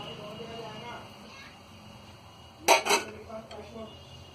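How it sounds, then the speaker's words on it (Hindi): Chopped onion drops into an empty bowl, making a brief pair of clinking knocks against it, with a few lighter taps after, against quiet kitchen background. "इसमें हम ये प्याज डाल देंगे"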